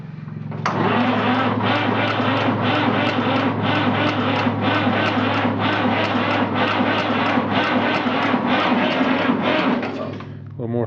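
A 1959 Fordson Dexta tractor cranks hard without catching: a loud, steady starter rhythm of evenly spaced compression pulses running for about ten seconds before stopping.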